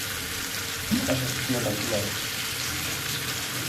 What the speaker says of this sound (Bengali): গাইস হচ্ছে এভাবে ভাজতে হবে ঘুরে ঘুরে। তো আমি ভাজতেছি